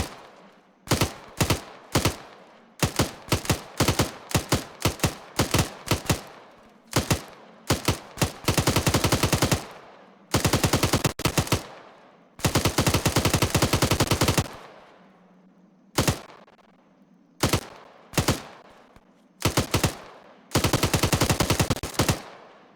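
A 7.62mm machine gun from Arma 3, fed by a 100-round box magazine, firing about 800 rounds per minute, lets off loud repeated bursts, some short and some sustained, separated by brief silences.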